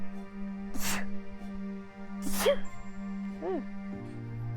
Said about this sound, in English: I don't know why I'm sneezing all of a sudden.